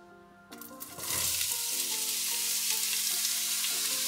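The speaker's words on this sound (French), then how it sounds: "normalement la casserole était déjà chaude, donc ça va aller relativement vite. Et tout simplement on va venir donc mettre donc notre oignon" Onion drops into an already hot pan and bursts into a sudden loud sizzle that swells within a second, then holds as an even, close frying hiss.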